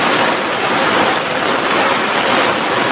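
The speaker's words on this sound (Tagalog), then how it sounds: "Grabe, lakas ng ulan." Heavy rain pours down steadily during a typhoon with flooding, a dense, loud, continuous hiss of downpour with no voices.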